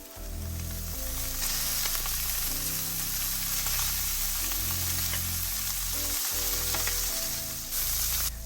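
Steak searing in a very hot pan while making creamy beef pasta, a loud, steady sizzle that crackles for the whole stretch over a low background hum, with no talking.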